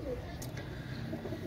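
A Pakistani pigeon gives soft, low coos at close range in a loft, with faint background hum and a brief higher chirp in between.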